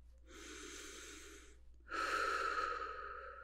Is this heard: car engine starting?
no